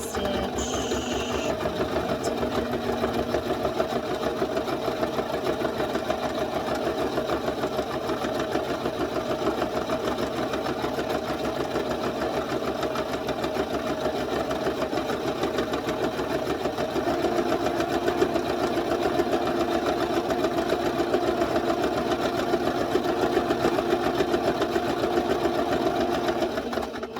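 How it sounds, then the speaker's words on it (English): A sewing machine stitches a drawstring bag seam with a 1/4 inch allowance and backstitch, a close, fast, steady mechanical whir and chatter running continuously for the whole stretch. "I'm just going to go ahead and sew that with a 1/4 inch seam allowance, back stitch."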